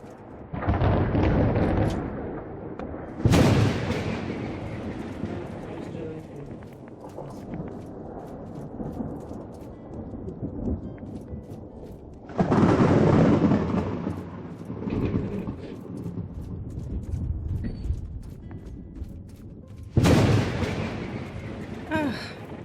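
Rumbling thunderstorm from the Ashlander storms of the Morrowind video game: loud rolling thunder claps burst in roughly every seven to eight seconds over a continuous roar of wind and rain, with faint talk underneath.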